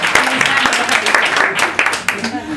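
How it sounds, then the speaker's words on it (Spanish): An audience applauds a storyteller at a storytelling session, with dense clapping mixed with voices under and around it for a couple of seconds. "un fuerte aplauso para Marisa"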